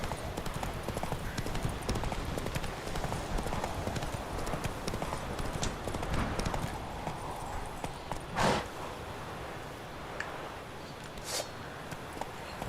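Roach, the horse in The Witcher 3, gallops with a dense, rapid hoof patter under game sounds, broken by a couple of sharp whooshing bursts, while someone talks.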